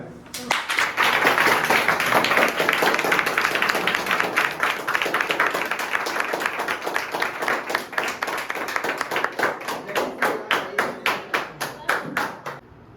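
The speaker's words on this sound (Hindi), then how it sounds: "तो जोरदार तालियों के साथ उनका अभिवादन करो, सम्मान करो" An audience at a weekly company appreciation meeting claps steadily for about thirteen seconds, dense and loud at first, thinning into individual spaced claps toward the end.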